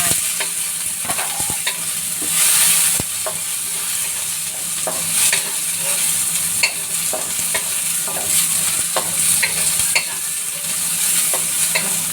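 Onion and garlic for chicken adobo fry in a pan with a steady, close sizzle, broken by the scrape and clack of frequent stirring, with no voices.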